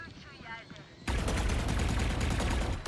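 Gunfire in a Valorant match bursts in abruptly after a quiet second of game ambience, then continues as dense, loud, rapid shooting to the end.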